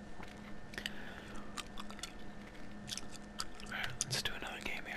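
Close, wet gum chewing for ASMR, with soft smacks and crunchy clicks popping irregularly over a quiet hiss, alongside light whispering and what may be occasional keyboard or controller taps.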